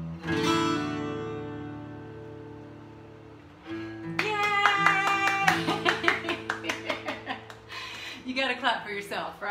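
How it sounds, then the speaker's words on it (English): A burst of hand clapping, brisk and fairly close, follows a sustained musical tone and carries on with uneven rhythm. "You gotta clap for yourself, right?"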